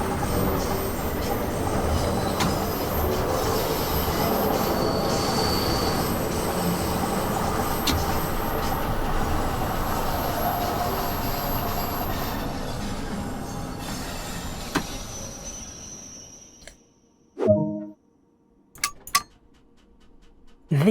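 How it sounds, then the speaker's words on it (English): London Underground tube trains pulling into a Bakerloo Line station in Train Sim World 2, a loud sustained rumble of wheels and carriages with high squeals over it, fading out toward the end before a few sharp clunks. "That's other tubes coming in."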